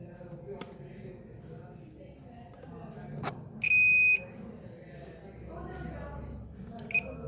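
A multimeter set to buzzer and diode mode, used to test an Infinix X6528 phone circuit board, gives one steady half-second beep and later a very short blip, over a low background hum.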